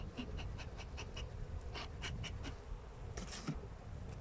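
Honeybees at an open hive give a continuous close buzz while the keeper inspects a colony in spring, with a few brief knocks and rustles over the drone and no speech.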